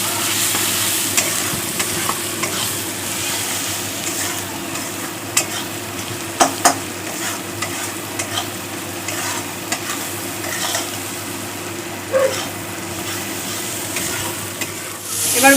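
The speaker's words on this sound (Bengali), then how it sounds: "মশলাটা খুব ভালো করে কষিয়ে নিতে হবে" Spice masala with chilli powder being stirred and fried in a pan for ghugni: a constant sizzle with repeated scraping strokes of a spoon against the pan, close and fairly loud.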